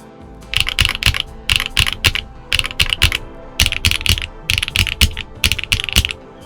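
Brisk clacky typing on a CannonKeys Photon mechanical keyboard, keys struck in quick bursts with short pauses, close and clear with no talking.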